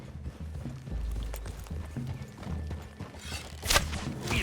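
Horse hooves clip-clop on a trail in the Red Dead Redemption 2 video game, a steady, moderately close plodding under outdoor ambience, with a brief brighter rustle near the end.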